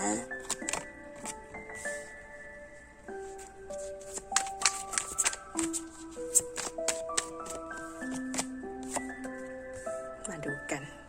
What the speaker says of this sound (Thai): สับไพ่ให้เห็นนะ